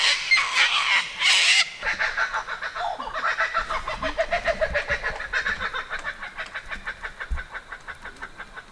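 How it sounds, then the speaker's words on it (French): Two parrots squawk and chatter repeatedly in rapid, raucous bursts nearby, loud at first and then continuing as a steady rhythmic calling outdoors, with no talking. "On a deux perroquets là qui s'amusent à faire bien du bruit."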